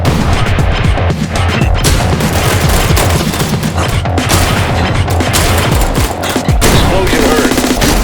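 Video game combat: dense, continuous bursts of gunfire and booming explosions crowd each other with hardly a pause. The barrage is loud and close for the full stretch.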